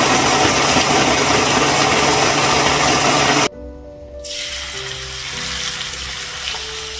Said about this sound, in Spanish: Y lo licuamos muy bien.